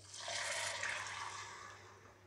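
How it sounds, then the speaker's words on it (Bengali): Hot water is poured into a paneer dopiaza onion gravy in a pan, a brief, steady splashing pour that swells and then tapers off, fairly quiet and heard alone. "আমি এখানে গরম জল দিচ্ছি।"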